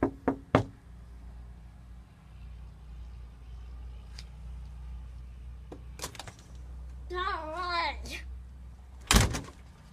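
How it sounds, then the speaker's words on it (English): Several sharp knocks on a door, a quick cluster at the start and more scattered raps later, over a low steady hum, with a brief voice and a loud thump near the end. "knocking door to door"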